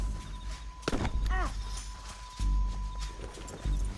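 Horse hooves clip-clop in the Red Dead Redemption II video game, a short burst of close thudding steps with a brief whinny-like call, set against steady game ambience and rumble.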